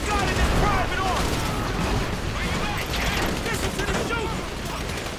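Dense, rapid gunfire from Grand Theft Auto 5 rattles continuously at close range, with voices mixed into the noisy battle.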